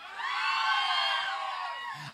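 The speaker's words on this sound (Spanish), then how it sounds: "Aplauso para Pipi." A television game-show studio audience cheers and whoops loudly in a dense, continuous wash of crowd noise lasting about two seconds, fading slightly near the end.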